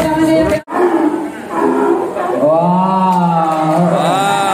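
A sea lion at a safari park show calls out loudly with repeated harsh, honking barks, close and strong over faint crowd murmur.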